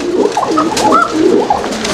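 A red Bashiras pigeon coos close to the microphone, a continuous warbling, rolling call with rising and falling notes, loud and clear for about two seconds.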